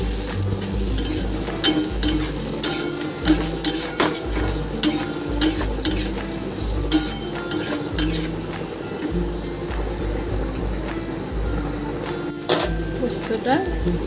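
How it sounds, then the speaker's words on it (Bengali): Poppy seed paste and onions stir-fried in a pan give a steady sizzle, with repeated scraping and clinking of a spatula against the metal running throughout, close and fairly loud. "ভালো করে কষিয়ে নেবো আরও কিছুক্ষণ।"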